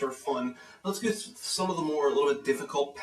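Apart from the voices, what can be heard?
No everyday noise stands out behind the speech.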